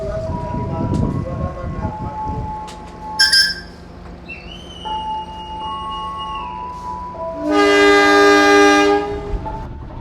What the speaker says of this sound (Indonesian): Persiapan berangkat kereta api Pramex dari stasiun Wojo.